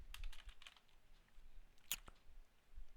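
A band name typed on a computer keyboard, a few scattered light key clicks with one sharper tap in the middle, close and quiet with no talk.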